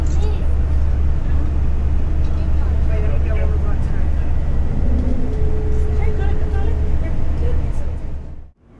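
A Kennedy Space Center tour bus turns and drives across the crawler pathway, its engine a steady, heavy low rumble with road noise, loud and close throughout before cutting off abruptly at the end.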